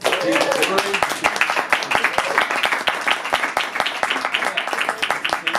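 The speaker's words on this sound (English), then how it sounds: "So let's give him a round of applause." Lively applause and clapping fill a small music venue, loud and continuous, with voices and cheering mixed in throughout.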